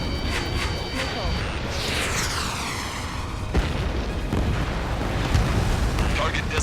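Missile impact explosions in the combat flight game Ace Combat 7, a booming blast with a long swept whine, followed by further rumbling detonations under a steady roar and game voice chatter.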